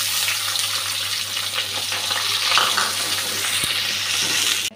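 Onion and green chili frying in a pan for a Bengali prawn and katla fish tomato curry, a continuous close sizzle with scraping stirring sounds and a brief clack partway through.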